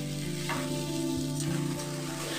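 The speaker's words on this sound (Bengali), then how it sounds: "এবার আমি এর মধ্যে দিয়ে দিচ্ছি ভেজে রাখা পটলগুলো।" Fried pointed gourd pieces hit hot oil in a pan for a potato and moong dal vegetarian curry, giving a steady close sizzle with a few soft scrapes of stirring throughout.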